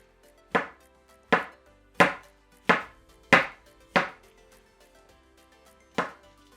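A knife slices chestnut and closed cup mushrooms on a board, giving seven sharp, close chops at an even pace with a pause before the last, and no talking.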